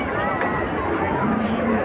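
A dense crowd gathers at the Burj Khalifa in Dubai for the New Year fireworks show, its steady hubbub of many voices and movement filling the air close by, loud and continuous throughout.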